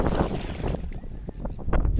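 A gust of wind buffets the microphone while paddling on a tidal inlet, giving a loud rumbling roar that eases off and then surges again near the end, with water sounds underneath.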